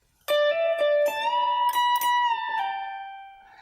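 A single electric guitar plays a solo lick from a rock song: several picked and bent notes ringing with harmonics, then a sustained note that slowly fades, with no talking.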